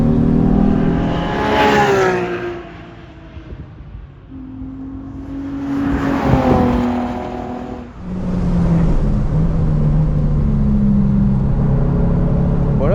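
Car engine on a track day at the Bresse circuit, loud and close from inside, repeatedly accelerating through gears with climbing revs, brief drops between shifts, then a sustained high drone.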